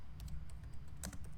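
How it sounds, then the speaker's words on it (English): Someone types on a computer keyboard, fast, close clicking keystrokes in small irregular bursts with a quieter low hum underneath. "I will go over to the search bar and I'm typing in Facebook"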